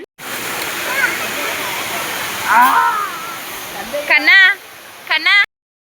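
Stream water at Maredumilli rushes in a steady, loud broadband wash, with brief voice-like calls rising over it near the end before it cuts off.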